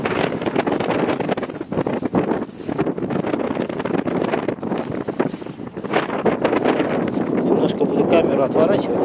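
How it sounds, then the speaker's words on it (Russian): Strong wind gusts at a pond, buffeting the microphone with loud, uneven rumbling blasts throughout, and a person speaks over the noise. "Ветер сильно, он будет потом все перебивать."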